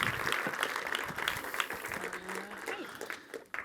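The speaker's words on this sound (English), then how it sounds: "is a clap appropriate?" A conference audience claps steadily throughout, a dense wash of hand claps at moderate distance, with talk mixed in.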